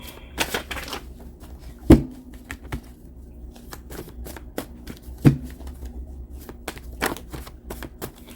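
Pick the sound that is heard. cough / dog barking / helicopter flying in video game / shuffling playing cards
shuffling playing cards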